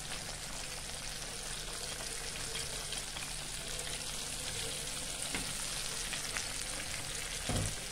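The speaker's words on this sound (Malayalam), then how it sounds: "ഓക്കെ, ഇതൊന്ന് പൊരിയട്ടെ." KFC-style chicken pieces fry in hot oil with a dense, constant crackling sizzle, close and even throughout, and no voices.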